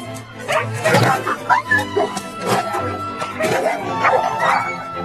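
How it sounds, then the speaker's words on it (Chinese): A film scene of a dog fighting a pack of wolves, full of snarling, yelping, whimpering and barking in close, chaotic bursts, with a voice talking over it. "作为一只有骨气的狗狗，贝拉放手一搏，与狼群展开了殊死搏斗。"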